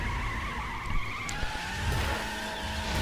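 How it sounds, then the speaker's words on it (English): Alfa Romeo 4C driving in the racing video game The Crew, a continuous engine drone with tire noise and faint skidding texture, steady and moderately loud, with no voices. "Top speed run number 2, the Alfa Romeo 4C."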